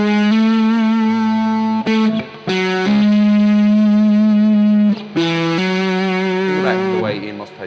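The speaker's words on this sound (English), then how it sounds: "still sounds like a Stratocaster even though there's actually tons of overdrive" A Stratocaster electric guitar plays a sustained solo through heavy overdrive and reverb, holding long, steady notes with brief pick attacks and bends, loud and up close, alone without talk.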